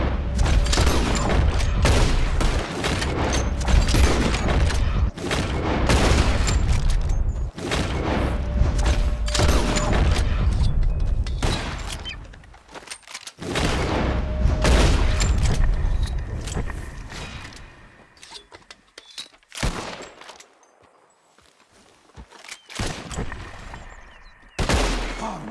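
Rapid volleys of gunfire aimed at flying birds in the Red Dead Redemption 2 video game, loud close shots cracking in dense clusters with short pauses, thinning out toward the end.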